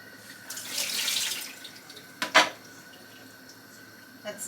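Water runs from a tap into a sink as cooked noodles are drained, a steady close splash that swells, then eases to a thinner trickle with a couple of sharp clatters near the end.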